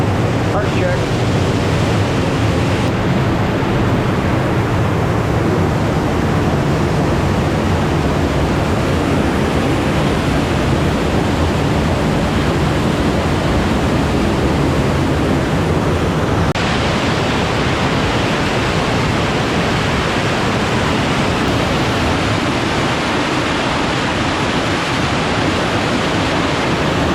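A waterfall rushes in a steady, loud broadband roar at a lake campsite, continuous and unbroken throughout with no other distinct sounds standing out.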